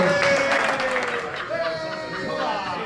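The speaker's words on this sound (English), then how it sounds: "Round of applause." Applause at golf day awards, a burst of clapping that fades into a quieter ongoing patter, with someone talking over it.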